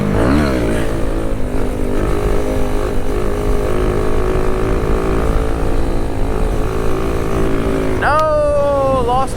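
A Kawasaki Z125, a small 125 cc motorcycle, pulls hard in third gear on a road, engine roaring loud and steady up close, then a sudden rising whine breaks in near the end.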